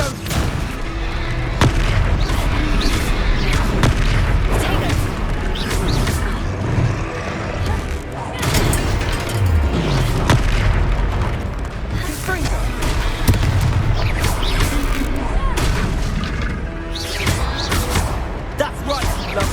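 Blasting-spell explosions in a Hogwarts video game, with heavy booms and thuds over a dense, steady din of combat noise, while voices call out spells throughout.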